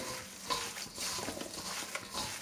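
A flour mixture is stirred in a pan as it fries for a Lublin-style forszmak, soft scraping strokes over a quiet sizzle, close and fairly faint with no talking.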